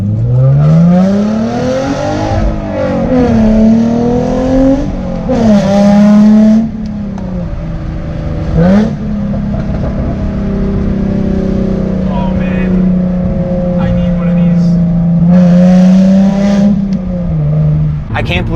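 A Hyundai Genesis Coupe 3.8 R-Spec V6 revs loudly and close up, its exhaust note climbing and dropping across repeated throttle blips with a sharp crackle or two between pulls.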